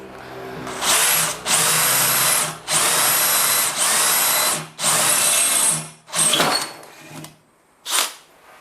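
Cordless impact drills, a DeWalt DCD805 and a Makita DHP487, bore into wood with a small bit in repeated loud bursts of high whirring, about six runs separated by short pauses, the last ones briefer.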